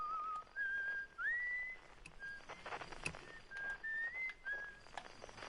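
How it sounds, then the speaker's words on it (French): A thin, clear tune whistled on the moon in the space exploration game Outer Wilds, heard through an in-game signal scanner as a series of sliding, sustained notes, moderately faint over light static with a few clicks. "il y a un mec qui siffle sur la lune"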